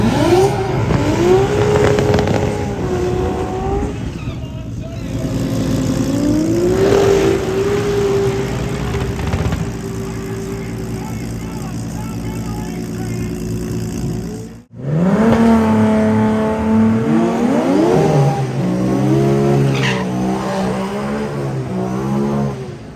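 Ford Fairlane drag car making a quarter-mile pass, its engine loud and close, revving up through rising, stepped pitch sweeps with a brief drop near the middle before roaring on again.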